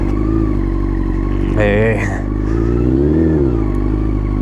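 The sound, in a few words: motorcycle exhaust revving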